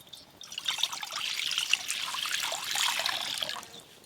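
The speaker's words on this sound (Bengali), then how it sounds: "প্রথমে আমি ডিমগুলো ধুয়ে নেব।" Eggs rinsed under a running kitchen tap, a steady trickle and splash of water lasting several seconds at moderate level with no talking.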